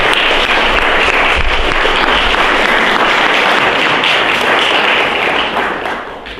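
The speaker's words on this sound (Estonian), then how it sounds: "Teeme suure aplausi nominatsioonile Paide muusikakooli." A large audience applauds at a regional culture awards ceremony, producing dense, loud, sustained clapping that carries evenly and then begins to thin and fade toward the end.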